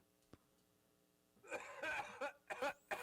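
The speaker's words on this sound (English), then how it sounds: "that cough is a Sabbath reference" A cough, meant as a nod to the opening of Black Sabbath's "Sweet Leaf", lands as a few harsh, raspy bursts after a quiet start, close and fairly loud.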